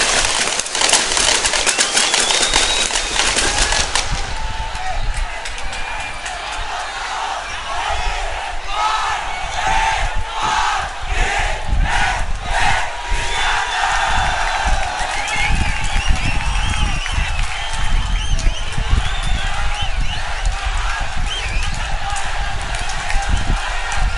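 A stadium crowd at a 2012 Singer League schools rugby match roars loudly and continuously, with shouts and cheers rising over the constant din for the whole stretch.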